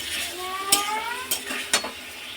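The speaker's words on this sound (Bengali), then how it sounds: "সেদ্ধ করা ডালটাকেও আমি দিয়ে দিচ্ছি এর মধ্যে" Boiled moong dal tipped into a pan of fish head and spice masala, a light sizzle with a few sharp clinks of a utensil against the pan and a brief rising whistle-like tone.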